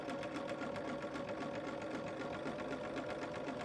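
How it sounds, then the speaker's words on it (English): Sewing machine with a free motion foot stitching yarn onto fabric in a stippling pattern, a steady, close, rapid mechanical whir running without pause. "And just attaches the yarn as I'm sewing."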